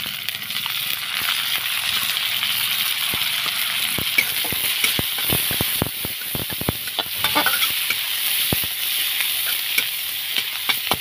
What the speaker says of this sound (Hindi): तो देखिए यहाँ प्याज भी भुना गया है